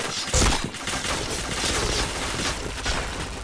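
Gunfire in the online shooter PointBlank, rapid bursts of shots with one sharp loud crack near the start and a dense clattering fusillade after, busy and close with no voices.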